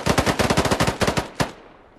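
Automatic gunfire in a CS:GO-style online shooter game, a rapid burst of a dozen or so loud, close shots in quick rhythm, then a final single shot followed by fading silence.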